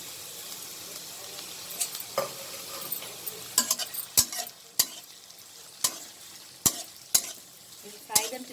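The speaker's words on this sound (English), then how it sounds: "And we'll fry them till it turns golden brown." Chopped onions and green chilies sizzle in oil in a pan, a soft, constant crackle broken by sharp scrapes and knocks as a spoon stirs them. No voices are heard.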